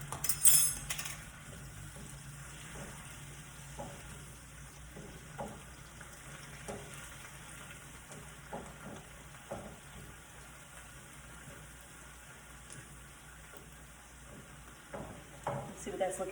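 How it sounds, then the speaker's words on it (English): Black beans sizzle faintly on a hot griddle in a home kitchen, a low steady hiss broken by soft scattered clicks of a utensil against the pan. "There we go, I hear that griddle going."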